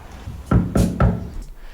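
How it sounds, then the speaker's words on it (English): A door being shut, three solid thumps in quick succession, close and fairly loud, with a brief dull knock quality and nothing else audible. "Shut the door."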